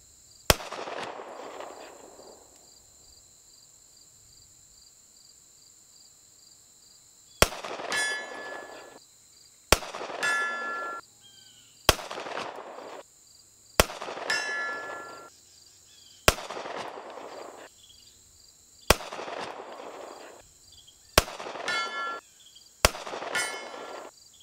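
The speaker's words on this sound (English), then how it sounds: "Said I wasn't gonna shoot any more than two magazines." Gunfire from two magazines shot at a 100-yard target outdoors: loud single reports spaced a few seconds apart, each with a ringing tail. A long quiet gap after the first shot.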